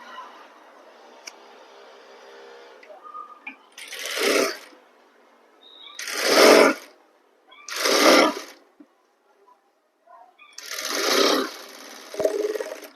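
A sewing machine stitching a suit seam runs in four separate loud whirring bursts with quiet pauses between them, after a softer mechanical hum at the start.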